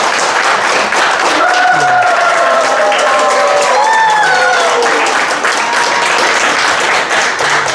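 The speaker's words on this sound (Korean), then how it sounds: "우리 저기 정 의원님이 박수 많이 치라고 시키셨죠" After a lecture on real estate, the audience claps in a loud, dense burst that continues evenly, while a few voices and faint crowd sounds rise through the applause.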